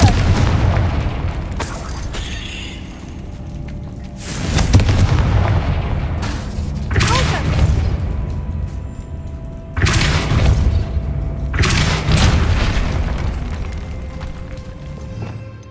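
Spell explosions in the video game Hogwarts Legacy hit as a series of deep, loud booms, about five blasts spaced a few seconds apart, each rumbling and decaying over ambient game sound.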